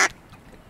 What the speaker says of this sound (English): Look around, and you might notice mallard ducks.